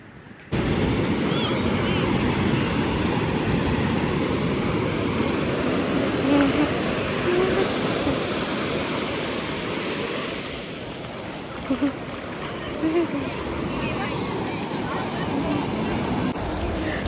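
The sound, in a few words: sea waves on a beach in Goa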